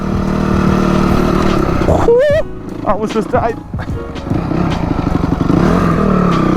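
A dirt bike engine drones steadily while riding trails, close and loud, with a brief dip and some clattering as a rider speaks over it.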